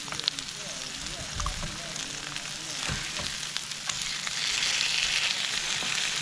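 Burgers and bacon sizzle on a griddle inside an RV, a steady close frying hiss with a brief scrape and thump as the patties are flipped.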